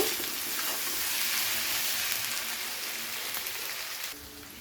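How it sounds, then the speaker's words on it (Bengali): Potatoes and onions fry in a pan with a steady, close hissing sizzle that eases slightly toward the end. "আলুগুলো ভাজতে ভাজতে কিন্তু পেঁয়াজও খুব ভালোভাবে ভাজা হয়ে গেছে"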